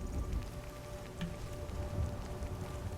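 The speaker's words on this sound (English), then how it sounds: "It's a part of a weather mod, actually, that's making the storm overhead." Rain from a Skyrim weather mod storm, a steady soft hiss of falling water with faint scattered drops and a low rumble beneath, fairly quiet and continuous throughout.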